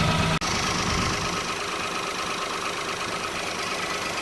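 A Peugeot 107 small petrol engine idles steadily after a front exhaust manifold gasket replacement, a continuous close hum with a brief dropout near the start.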